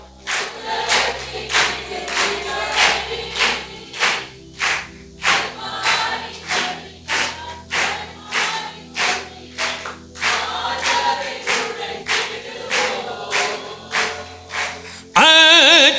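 Rhythmic group clapping from a church congregation during a Sunday service in Tuticorin, steady claps in a regular beat over about fifteen seconds, fairly loud and close, ending in a brief burst of other sound.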